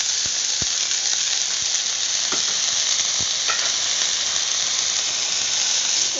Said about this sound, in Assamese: এতিয়া মই ধুনীয়াকৈ লৰাই দিম